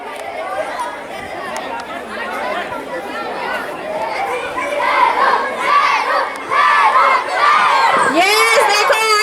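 A school crowd watching a mini football match cheers and shouts, with children's excited cries and dense chatter building in waves, loud and close throughout.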